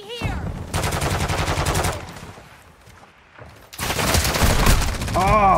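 Gunfire in Call of Duty, heard as rapid automatic bursts in two loud stretches with a quieter gap between them. Shooter-game effects sweep in at the edges.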